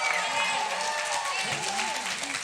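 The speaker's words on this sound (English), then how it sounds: "Can we just have a thunderous round of applause?" Audience applause following a music performance at a community convention, dense clapping and crowd noise held steady throughout, with voices talking and calling over it.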